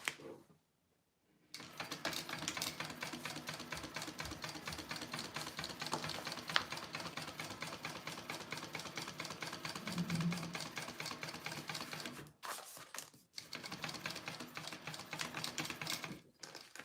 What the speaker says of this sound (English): I am sewing the On The Go pouch